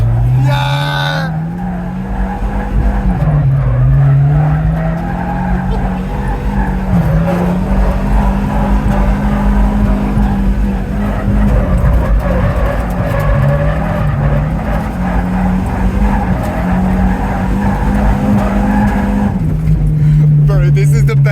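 A BMW E36's engine revs hard and holds a loud, sustained wavering drone while its tires squeal through a long slide, close and continuous for about twenty seconds.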